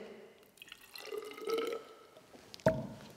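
Hydrochloric acid trickles into a measuring cylinder in a school lab, a faint pouring and dripping that swells in the middle and ends with a short glassy knock.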